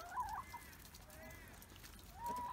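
Chickens out on the ground for the first time on a cold winter day, eating with appetite and letting out soft clucks and brief calls over a low, steady background.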